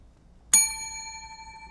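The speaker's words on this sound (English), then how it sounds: "Y'all too timid with the bell." A single bright ding of a quiz contestant's desk bell, struck once sharply and left to ring out with a clear sustained tone in a quiet room.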